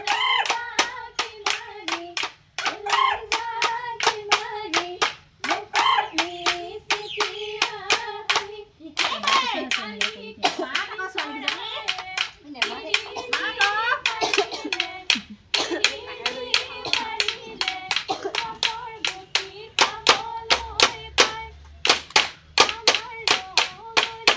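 Rhythmic hand clapping at Bihu dance practice, steady close claps keeping time throughout alongside sung voices and chatter.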